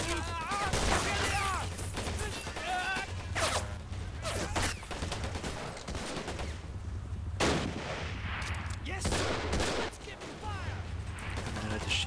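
Gunfire and artillery in the WWII strategy game Men of War Assault Squad: repeated bursts of shots and heavy blasts in clusters, with German-speaking players talking over the battle.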